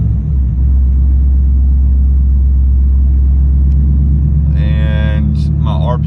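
A 2004 Mustang GT with straight pipe exhaust idles rich and unevenly in a loud, deep, steady rumble, and a voice cuts in briefly near the end.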